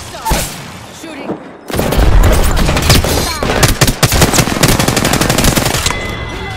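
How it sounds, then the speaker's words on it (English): Loud video game gunfire, with a few early shots giving way to sustained rapid automatic bursts that continue steadily to the end. "Shooting."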